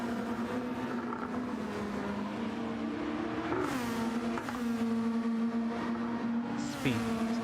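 A GT race car at Interlagos in a sim racing series, its engine droning steadily and shifting pitch as it accelerates, loud and continuous under a commentator's voice.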